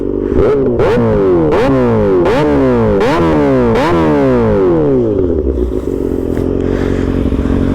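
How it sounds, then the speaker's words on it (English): A 2021 Kawasaki ZX-6R motorcycle with a full-system exhaust is revved hard several times in quick succession, each blip dropping back, then settles into a loud, rumbling idle nearby. "that's a full system exhaust"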